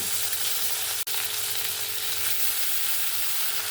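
Potatoes and eggplant fry in a pan with a dense, steady sizzle close up, briefly dipping once as they are stirred, with no voices present.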